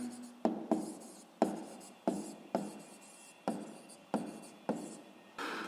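A pen scratches out a school maths exercise on paper in short repeated strokes, each opening with a crisp tap and fading scrape, roughly ten in steady succession, soft and near.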